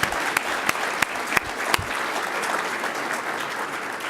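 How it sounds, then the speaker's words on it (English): Audience at a scholarship keynote event applauds, a dense patter of many hands clapping steadily with a few sharper claps standing out, fairly close. "give her a round of applause."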